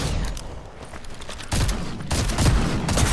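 Dense, rapid gunfire in the video game Fortnite crackles in a continuous volley, loud and close, with bursts growing heavier toward the end.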